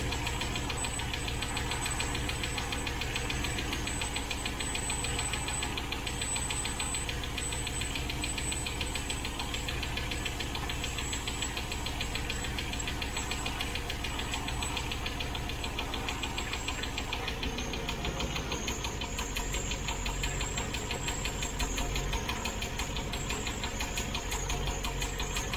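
A 1972 Range Rover engine idles steadily with a clacky knock from the rear of its cylinder head, a continuous close mechanical rattle over the engine hum with no talking.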